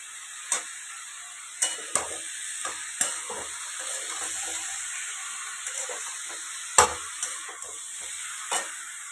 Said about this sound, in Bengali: ভেজে ইলিশ মাছটা করে দিই